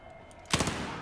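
A short, sharp burst of rapid gunfire from the Battlefield 4 video game, a quick volley of shots cracking out over low background game noise, with no talk.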